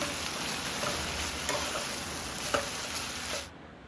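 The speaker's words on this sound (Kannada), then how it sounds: "ಶುಂಠಿ ಬೆಳ್ಳುಳ್ಳಿ ಪೇಸ್ಟನ್ನ ಹಾಕ್ಕೊಳ್ಳೋಣ. ಚೆನ್ನಾಗಿ ಫ್ರೈ ಮಾಡ್ಕೊಳ್ಳಿ." Ginger garlic paste fries in a pan with a steady, close sizzle and soft spattering crackles that go on for several seconds, then stop abruptly near the end.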